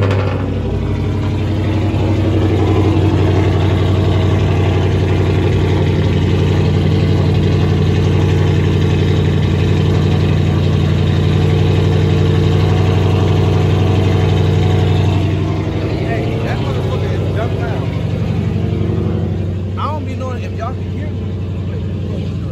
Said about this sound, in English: So I'm gonna hop out and let y'all hear the cold start real quick